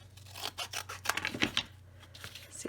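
A small square of waste chipboard is cut for a mixed media altered journal craft, giving close, rasping cutting strokes in an irregular series of scrapes and crunches.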